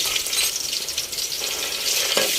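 Spice masala paste of poppy seeds, cardamom, cloves and cinnamon frying in a pan for a fish curry, a loud continuous sizzle and hiss with faint stirring scrapes throughout.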